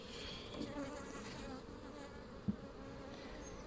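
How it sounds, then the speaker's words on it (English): Honeybees swirling around a hive on an orientation flight in late July, a steady, dense buzzing hum from many bees close by with one brief louder tap partway through, no talk. "I've got the feeling that's a nice big orientation flight happening there"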